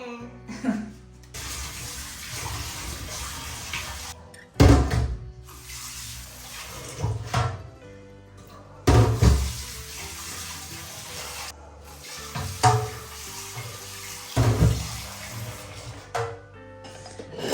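Tap water gushing into a sink while a pressure cooker is washed, steady splashing broken by several loud clanking bursts of metal against the basin at irregular intervals, with faint speech now and then.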